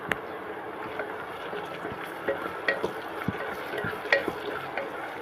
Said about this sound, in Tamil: நல்லா மிக்ஸ் பண்ணிக்கலாம். வெங்காயம் நல்லா வதங்கட்டும்.